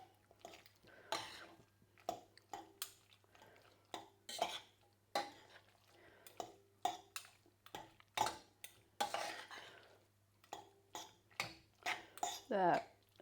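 Vegan Alfredo sauce being stirred in a pan, a utensil scraping and knocking in short irregular bursts close by, with a steady low hum underneath and occasional speech between strokes.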